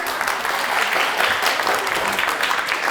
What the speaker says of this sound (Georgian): დრო ამოიწურა და გიორგიმ დააგროვა 14 სწორი პასუხი, აპლოდისმენტები მას.